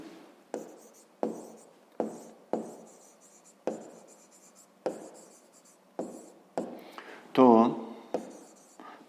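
A pen writes into the cells of a maths workbook in a quiet room. Each short, scratchy stroke starts sharply and fades, and the strokes repeat in an even rhythm, with one rougher burst of scribbling near the end.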